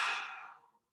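A single big exhale during a lat stretch, a soft breathy rush that fades away over about a second, quiet and close.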